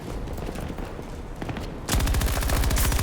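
Automatic gunfire in the video game Battlefield 2042 erupts after a quieter stretch of ambient game sound, then continues as a loud, dense run of rapid shots to the end.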